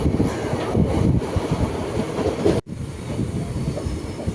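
The Malabar Express train rumbles steadily along the rails approaching Manjeshwar station, with a continuous heavy roar and faint rhythmic clatter, briefly cut by a sharp break before continuing.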